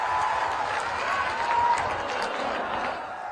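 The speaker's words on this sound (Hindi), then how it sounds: "भाई समरुद्ध वर्मा के लिए जोर से ताली बजाइए जरा।" Crowd at an outdoor election rally in Bettiah, Bihar, applauding and murmuring in a steady dense wash, with some laughter mixed in.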